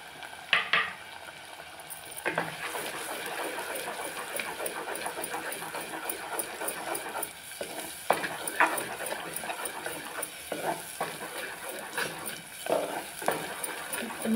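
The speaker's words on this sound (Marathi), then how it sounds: "ते मी परतून घेतो." Misal masala mixture being sautéed in a pan: a steady sizzle and frying hiss run throughout, broken by scraping stirs and occasional clinks of a spoon against the metal pan.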